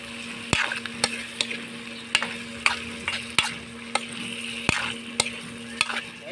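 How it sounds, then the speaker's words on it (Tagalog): Chunks of leftover lechon are stirred and mixed in a frying pan at an outdoor cooking spot, with sharp spatula scrapes striking every half second or so over a constant background sizzle. "Mix lang natin ang maayos."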